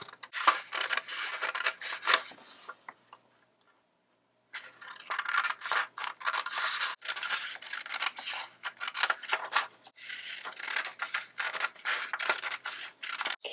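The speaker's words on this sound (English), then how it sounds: "we're going to cut these apart on the lines, straight up and down" Scissors snip through paper picture strips in a rapid series of close, crisp cuts, with a brief pause before steady cutting resumes along straight lines for an agamograph craft.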